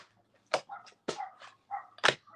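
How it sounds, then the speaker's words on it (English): A dog barks three times in short, spaced bursts with softer whimpering yips between them. The sound is moderately faint and alone. "I really hope and wish that dog would just be quiet"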